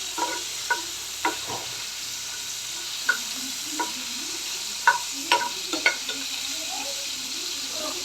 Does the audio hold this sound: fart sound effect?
no